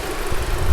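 Engine of a 2006 Volkswagen Passat 2.0 Turbo runs after an intake camshaft replacement, a brief, loud and close steady idle hum with a low rumbling throb.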